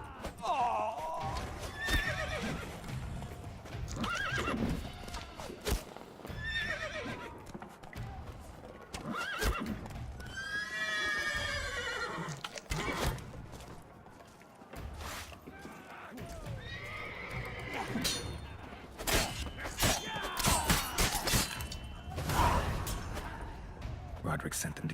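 Horses neighing and whinnying in The Witcher 3: Blood and Wine, with hooves clip-clopping, under frequent spoken dialogue; loud whinnies rise in the middle, over ongoing movement and commotion.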